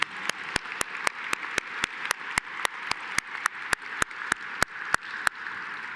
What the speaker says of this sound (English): Let's have another round of applause for Scott Summey.